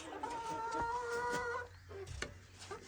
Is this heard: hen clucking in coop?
yes